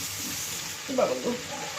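Onion and garlic frying in a pan give a continuous close sizzle and hiss, with a brief clatter of stirring near the middle and a faint voice underneath.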